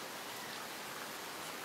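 Heavy rain pouring down in a dense, steady hiss with no breaks, faint and even throughout, with no voices.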